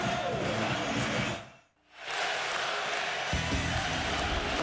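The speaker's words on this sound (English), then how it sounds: "The crowd goes crazy." Loud arena crowd roaring and cheering at a New York Knicks home playoff game against the Miami Heat, with a brief dip in the noise before the roar surges back, heavy and sustained.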